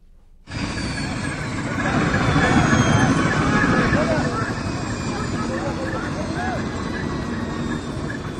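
Helicopter hovering in the air near Kedarnath shrine in the Himalayas, after an in-flight fault forced an emergency landing; a steady, fairly loud rotor and engine drone holds throughout.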